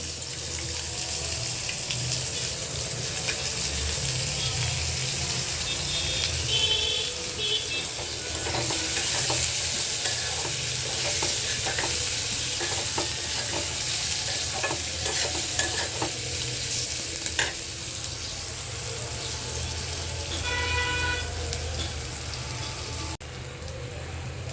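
Steady sizzling of onion and garlic frying in a pan, with occasional stirring scrapes and a brief splash of running water near the end.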